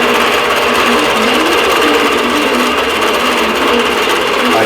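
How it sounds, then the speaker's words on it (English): Quilting sewing machine stitching a pattern on a vintage quilt, a loud, steady mechanical whir with rapid needle chatter, running continuously and close. "I'm going to let it start sewing"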